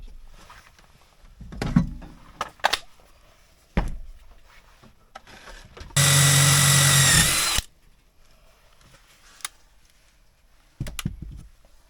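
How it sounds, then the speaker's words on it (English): A power drill bores a pilot hole with a step bit into the steel rail of a front dethatcher for a John Deere 2025R quick hitch, a loud steady whine lasting under two seconds amid shop clatter and knocks. "we'll drill a pilot hole and use a step bit"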